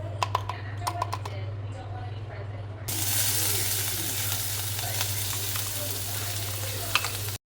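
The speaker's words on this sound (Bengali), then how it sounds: "চপিং করা পেঁয়াজ রসুন আর লঙ্কাটা আমি অ্যাড করে নেব" Chopped onion, garlic and green chilli hit a hot pan with a sudden loud sizzle that keeps frying steadily, after a few sharp clicks of kitchen handling beforehand.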